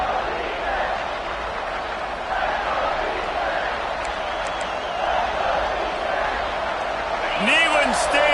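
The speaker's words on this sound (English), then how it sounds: "Neyland Stadium alive, a cauldron of orange noise on third down" Roaring college football crowd at Neyland Stadium on a third down, a steady wash of cheering noise beneath a commentator's excited play-by-play.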